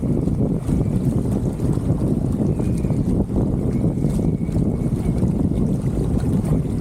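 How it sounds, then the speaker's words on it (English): Wind gusts sweep over a sailboat on a mountain lake as a loud, continuous rumbling roar of wind and buffeting, with no clear breaks. "I'm sailing through some pretty good gusts that are coming from the east"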